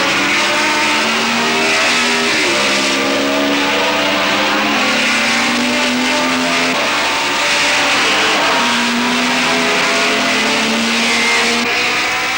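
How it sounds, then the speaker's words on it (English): A 1960s Grand Prix race car howls loudly at Brands Hatch from the driver's seat, its engine note rising and dropping through gear changes, continuous, close and dominant, with no talk. "a driver's eye view of what Grand Prix racing means at Brands Hatch"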